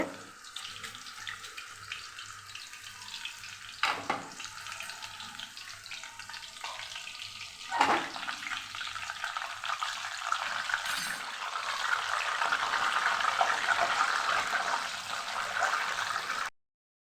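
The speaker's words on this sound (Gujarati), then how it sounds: "આપણે અત્યારે કેળાની લાઈવ વેફર બનાવીએ છીએ" Banana wafers for fasting snacks frying in hot oil, a steady broad hiss and bubbling that swells louder toward the end, with a couple of brief knocks along the way.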